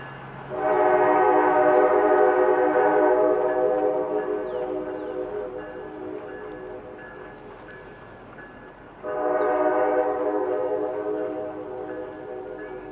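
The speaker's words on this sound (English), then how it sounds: "we listen to the beautiful cab-mounted Nathan K5LA air horn on New Jersey Transit number 4104" A New Jersey Transit locomotive's cab-mounted Nathan K5LA multi-tone air horn sounds at a grade crossing in two long blasts, the first held for several seconds and fading, the second starting abruptly after a pause.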